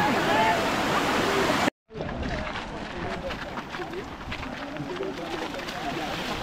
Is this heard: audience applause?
no